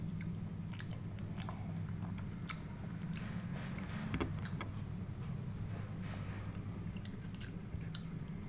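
Biting and chewing on creamy white sauce pasta with mushrooms, close to the mic: soft, wet mastication with small crunchy clicks repeating steadily over a low hum, with no talking.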